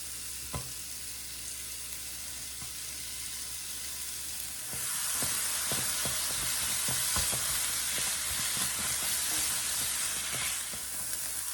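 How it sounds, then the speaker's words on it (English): Sausage browns in an electric skillet on medium heat, starting as a faint hiss and swelling into a loud, steady sizzle with frequent scraping stirs. "we're gonna get our sausage in the skillet and browned"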